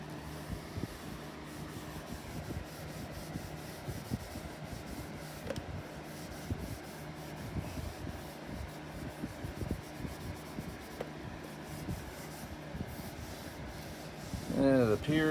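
Cloth rubbing Brasso over the casing of a 2010 MacBook to clear off grime: soft, uneven scrubbing and wiping close by, continuous, with some handling knocks near the end.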